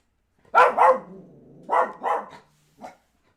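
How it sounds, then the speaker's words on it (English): A dog barks in two quick double bursts with a low growl between, then gives one short final yip, close and loud. "Pardon my dog."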